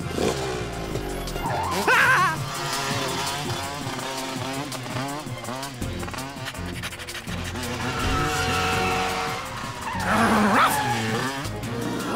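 Dog barking in a Sabrina werewolf-themed video game, repeated yips and barks with whimpers, mixed with engine-like noise and game sounds throughout.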